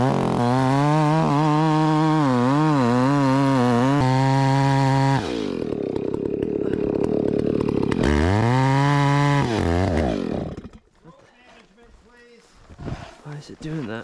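A chainsaw with a 50-inch bar roars at close range as it revs and bogs down while cutting a big tree, then drops off to a quieter idle and sputter near the end.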